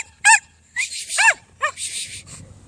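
A dog gives several sharp, high yips and barks in quick, irregular bursts, close by, with short quiet gaps between them.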